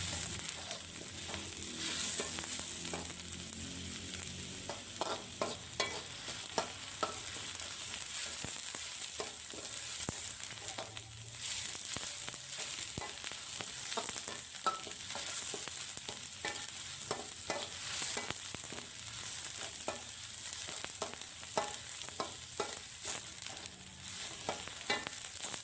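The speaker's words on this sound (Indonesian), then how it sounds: "Kemudian akan saya tumis bawang ini hingga matang, hingga beraroma wangi." Ground shallots and garlic sauté in hot oil, a continuous close sizzle with frequent scraping stirs of a spatula against the pan throughout.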